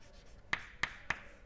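Three sharp chalk-like taps on a lecture board, evenly spaced and fairly close, each a brief dry knock with no voice over them.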